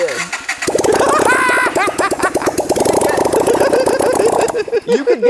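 Motorcycle engine running with no exhaust, a loud close burbling putter with rapid popping pulses and a couple of revs, while people talk over it.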